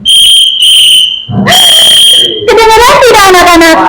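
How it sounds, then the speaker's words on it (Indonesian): A student blows a whistle in a classroom: two short shrill blasts, then a longer loud one, followed by voices. "bunyi peluit itu karena rongga yang menyempit."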